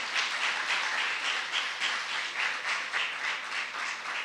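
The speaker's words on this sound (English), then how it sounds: "A round of applause for Prof Mavuso once again." Steady applause from a seminar audience honouring a professor during a session on decolonising education in South Africa, a dense continuous patter of many hands at moderate level with no voices over it.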